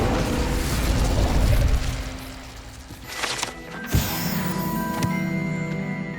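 An Incendio fire spell cast in Hogwarts Legacy, a burst of whooshing flame with a sharp pop, followed by magical chiming tones over busy game ambience.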